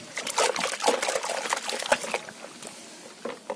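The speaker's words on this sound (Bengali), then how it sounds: "এই ব্রাশটা দিয়ে জলটাকে ভালো করে নাড়িয়ে নেবো" A brush stirs shampoo water in a bucket for washing a bike at home, giving irregular close sloshing and splashing strokes that come in bursts and ease off toward the end.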